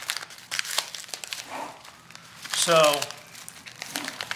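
The plastic wrapper of a super skin bandage pack crinkles in a short loud burst midway, close up, amid scattered handling noises, with someone talking around it.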